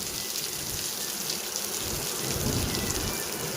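Steady rain falls nearby, a dense, even patter of drops on a surface with no voices.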